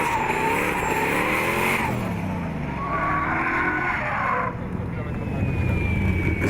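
A drift car in the Challenge class at round five of the Polish Drifting Championship in Kielce roars past with rising and falling engine revs and tyre noise, with excited commentary running over it.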